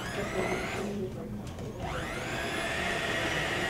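Electric mixer beating chocolate chip pecan cookie dough in a bowl, a steady loud whirring drone that runs the whole time with a brief dip in its pitch partway through.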